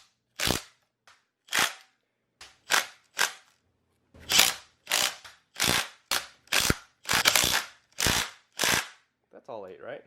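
Power tool tightening subframe bolts: about a dozen sharp, separate rattling bursts, each under a second long with short quiet gaps between, fairly close, with a brief voice at the very end.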